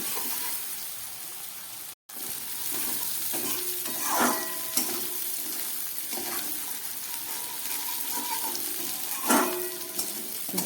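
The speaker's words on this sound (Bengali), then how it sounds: "এবার এটাকে খুব ভালো করে আমি কষিয়ে নেব।" Cumin, chilli and turmeric sauté in a pan, a continuous moderate sizzle with periodic stirring scrapes and a couple of louder bursts, briefly interrupted by a short silent gap.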